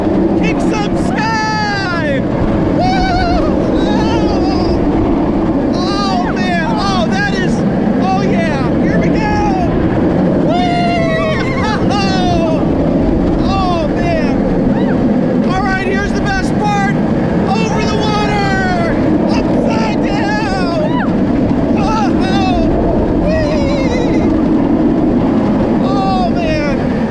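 The Railblazer roller coaster at California's Great America roars steadily throughout the ride, with riders screaming and shouting over the constant rush and rumble.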